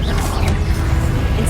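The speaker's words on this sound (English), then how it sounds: "Expelliarmus!" A disarming spell is cast in Hogwarts Legacy on PS5: a dense, loud rush of magical combat noise with a swishing burst, continuous and close, with no gap of silence.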